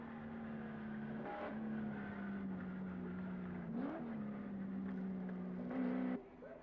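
Touring race cars at the 1986 Bathurst 1000 give a steady engine drone that surges and shifts pitch as cars pass, heard at a distance and fairly faint, with no voices.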